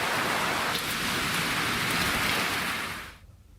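Heavy rain pours steadily onto surfaces in a dense, hissing wash, loud and continuous, with no voices, then cuts off abruptly near the end.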